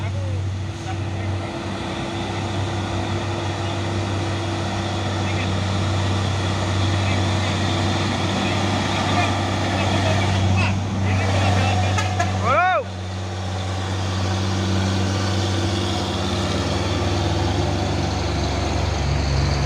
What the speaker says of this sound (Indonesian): Pemain Hino 500 lewati tanjakan Bukit Gorok di siang hari.